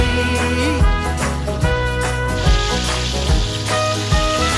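Food sizzles and fries in a pan over a driftwood campfire, a continuous crackling hiss at close range with no one speaking.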